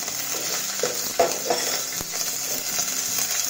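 Cumin seeds, curry leaves and three green chilies sizzle in hot oil for a tempering, with onion going in, as a spoon scrapes and stirs the pan in a few distinct clinks over a steady close frying hiss.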